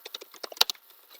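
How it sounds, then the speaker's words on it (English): Someone types on a computer keyboard during an Intro to Java coding class, about a dozen close, crisp keystrokes in a quick irregular burst, then quiet. "Typing, it's hard."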